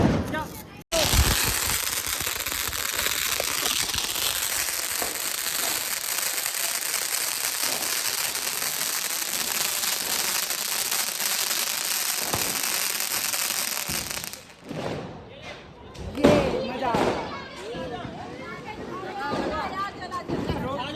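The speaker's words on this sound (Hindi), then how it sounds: "स्काई शॉट बड़ा वाला बड़ा वाला" A big sky-shot firework bursts during Diwali with a long, dense crackling roar that fills about fourteen seconds, then gives way to scattered pops while people talk and shout nearby.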